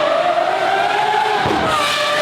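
A Lamborghini Aventador engine revs hard with a rising, tonal howl that drops and climbs again around a gear change, loud and close throughout.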